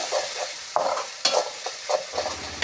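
Stirring tomato chutney with chilli and turmeric powder in a hot pan: a spoon scrapes and clacks against the pan in repeated strokes over a steady soft sizzle, close by with no talk.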